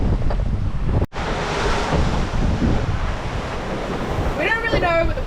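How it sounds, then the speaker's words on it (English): A genoa sail flaps on a sailboat running downwind off the Queensland coast, heard as irregular fluttering under loud wind noise and surging water, with a brief dropout and a whistling gust near the end. "See the genoa flapping around?"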